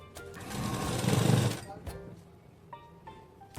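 A sewing machine stitching patiala pant fabric gives one loud whirring run of about a second and a half, then stops, followed by faint handling clicks.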